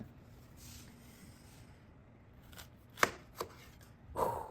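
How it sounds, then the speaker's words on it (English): Tomatoes being cut into quarters with a knife, soft slicing noise followed by a few sharp, close knocks of the blade on the board, the last one heavier. "make sure that all these tomatoes here are cut up into quarters"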